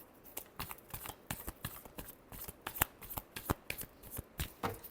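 Tarot cards shuffled by hand for a Gemini weekly reading, giving a rapid run of crisp riffling flicks and soft slaps in quick bursts, close and fairly quiet, with no talking.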